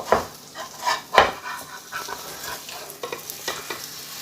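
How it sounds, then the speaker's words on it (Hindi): Egg for a bread omelette sizzles and fries in a pan, with scraping and stirring clicks of a utensil, a few sharper knocks as it is flipped, close and moderately loud without talk. "एक साइड से अंडे को मैं पकने दूँगा। अब मैं अंडे को पलट दूँगा।"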